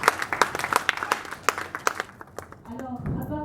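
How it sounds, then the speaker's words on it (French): Scattered clapping from an audience at a conference launch, a few people applauding in quick uneven claps that fade out as a voice starts speaking. "Applaudissez encore pour cela"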